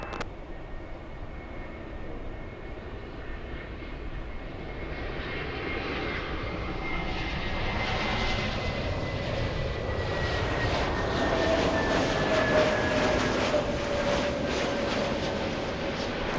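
An Asiana airliner departs runway 24 left at LAX, its jet engines building from a distant rumble into a loud, rising roar with a climbing whine as it accelerates away.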